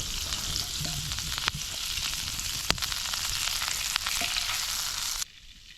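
Butter sizzling in a frying pan over a fierce, high flame before a steak goes in: a close, dense, steady sizzle with small crackles, heard alone until it cuts off near the end.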